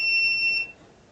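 Multimeter continuity beep while testing MOSFETs on an Asus ROG Strix G15 G513 laptop board: a single loud, high, steady electronic tone lasts about half a second, then cuts off.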